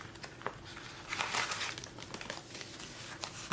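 Paper banknotes being pulled out of a budget binder cash envelope, a dry crinkling and rustling that comes in short bursts, close and moderately loud, with no one speaking.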